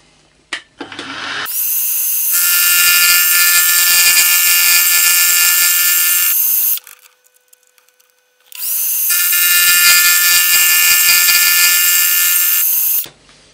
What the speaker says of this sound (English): We're going to rotate the arbor to cut the other flutes.